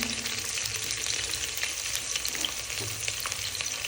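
Two sliced onions fry and get stirred in a pan while preparing white biryani, a steady, close hiss of sizzling oil with soft scraping strokes running throughout and no voices.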